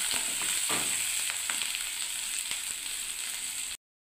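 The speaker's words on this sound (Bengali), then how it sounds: "তেল গরম হয়ে গেছে, আমি পেঁয়াজটাকে আগে ছেড়ে দিলাম।" Onion fries in hot oil in a wok, giving a continuous close sizzle with occasional crackles and stirring scrapes, fading a little before cutting off abruptly.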